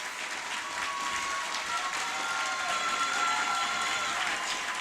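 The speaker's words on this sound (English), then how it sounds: "We are going to give you another standing ovation" Sustained standing ovation applause from a crowd at a business awards ceremony, a dense wash of clapping that holds steady for several seconds with faint crowd noise.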